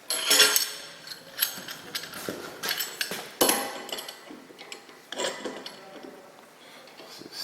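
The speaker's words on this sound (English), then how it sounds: "Clamp her down." Clamps are tightened down on a workpiece in a workshop, giving a run of close metallic clanks, ratcheting clicks and knocks that come in irregular bursts, with no talking.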